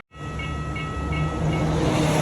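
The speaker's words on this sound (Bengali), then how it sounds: "বলতে না বলতেই এই ট্রেন দেখা গেল" A train rumbles past close by in Tirano, Italy, near the Swiss border, its loud mechanical roar swelling in after a moment of silence and holding steady with a faint tonal whine.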